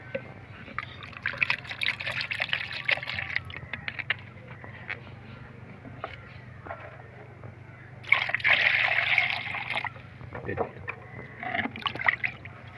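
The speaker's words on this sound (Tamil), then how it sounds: "இந்த மல்லிகை செடிக்கு ஊற்றுறோம்" Banana-soaked water is poured onto a potted jasmine plant in two main splashing bursts, with softer trickles and drips in between and a voice talking over it.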